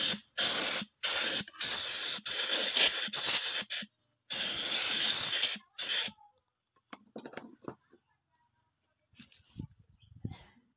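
A sprayer hisses in a quick series of loud bursts, short then longer, close up, followed by quiet with faint handling clicks and rustles.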